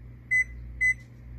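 Oven timer sounding two identical short electronic beeps, evenly spaced about half a second apart, clear and close over a steady low kitchen hum.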